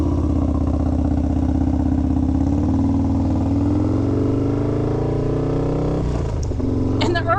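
A 151 HP Harley-Davidson motorcycle engine idling and revving in a steady, loud, throaty drone, with a few sharp mechanical clatters toward the end.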